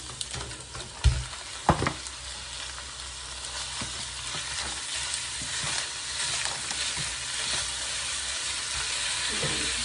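Ground meat frying in a pan with onions for a Filipino cabbage sauté: a steady, close sizzle runs throughout, broken early on by a couple of sharp clinks of a utensil against the pan.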